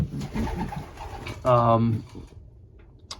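A single soft, throaty coo from a nearby pigeon rises above a faint hiss of background noise and rustling.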